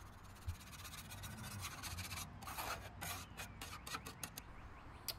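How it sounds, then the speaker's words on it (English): Metal scraper rubbing and rasping across a Blackstone griddle's flat steel cooking surface to clear leftover food, a close, steady run of gritty strokes that grows choppier toward the end, with no voices. "You want to scrape off any leftover food."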